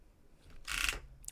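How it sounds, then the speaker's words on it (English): A computer keyboard shoved across a desktop, producing a short scraping, rattling burst that lasts under half a second, fairly close and quiet against a faint room hum. "The weird sound was me moving the keyboard on the desktop thing."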